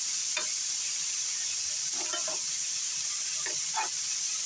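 Onions and ground beef sautéing in a pan, a steady sizzling hiss with a few brief scraping stirs of a utensil, close and moderately loud, no talking.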